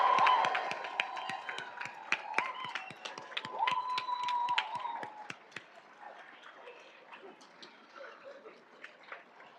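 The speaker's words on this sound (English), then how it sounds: "Can I have everybody give our graduates a round of applause?" Applause for nursing graduates at a pinning ceremony, heard as scattered sharp claps over tonal sounds, thinning out and fading after about five seconds.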